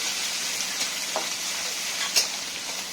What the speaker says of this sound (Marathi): हे कुटून घेतलेलं हिरवी मिरची आणि लसूणचं वाटण चांगलं परतून द्यायचं